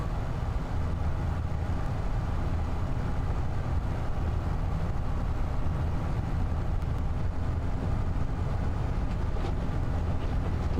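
A tractor engine in the Farming Simulator 25 video game drones steadily, a low, continuous mechanical rumble that holds the same level throughout with no talk over it.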